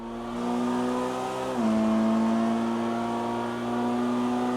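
Steady engine drone of a Dinka Sugoi front-wheel drive hot hatch lapping a track in a video game, holding a sustained note that dips briefly as it shifts, then settles and climbs again, loud and continuous with no talk.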